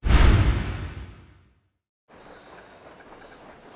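A train rushing past in Yoshi's Crafted World, a loud whooshing rumble that fades out over about a second and a half, then a short silence and quieter background ambience.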